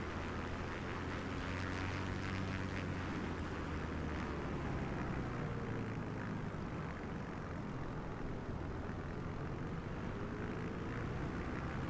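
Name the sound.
aircraft flying in video game Microsoft Flight Simulator 2024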